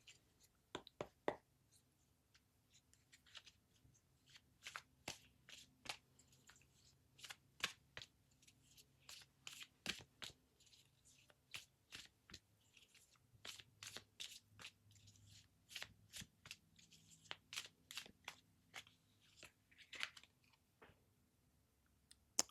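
Tarot cards being shuffled by hand during a pick-a-card reading, a long run of quick, crisp snapping riffles and flicks in irregular bursts, fairly close and quiet, with no talking.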